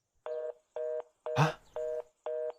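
Telephone call tones in a video game: five evenly spaced beeping tone bursts, faint and regular, with a brief noisy rustle in the middle.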